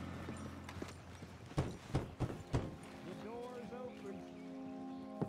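Horse hooves clip-clop in a quick run of four or five distinct strikes in Red Dead Redemption 2, then fade as a low tonal drone and other game sounds continue.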